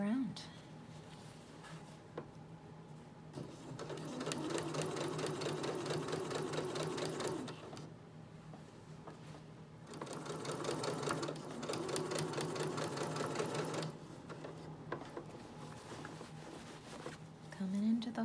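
A sewing machine stitches binding onto a dress seam in two long steady runs of rapid, even whirring, close and clear, with quieter pauses between.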